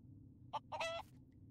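Game chicken from Craft the World clucking in two short bursts, a brief cluck followed by a longer squawking cackle, fairly close over a low ambient background hum.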